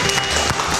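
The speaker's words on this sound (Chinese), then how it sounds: "掌声鼓励。" An audience at a children's cooking show gives brief applause, a short burst of dense clapping heard up close.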